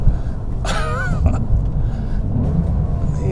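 A 2023 Porsche 911 Sport Classic with big ceramic brakes slows hard under a low road rumble, with a brief high tire squeal midway and a voice speaking briefly inside the cabin.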